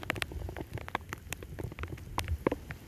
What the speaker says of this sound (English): this rain's starting to pick up a little much even for me